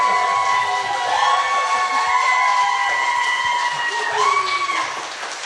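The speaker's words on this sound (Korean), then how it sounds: "일단 박수 한번 칩시다." Studio audience on a Korean political talk show claps and cheers in a lively burst, with whoops and voices carrying over the steady applause throughout.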